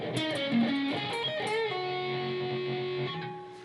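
Electric guitar playing a fast blues-rock solo phrase, quick bent notes settling into a long sustained held note, played alone at full tempo.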